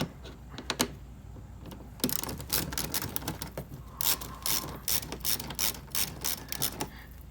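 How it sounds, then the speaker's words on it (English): Ratchet fitted with a Phillips bit driving screws on a 2018–2019 Honda Accord rocker molding: quiet, rapid clicking bursts of the pawl, starting sparse then running in steady strokes, close up with no talk. "I'm using a ratchet with a Phillips bit on it, and that'll work also."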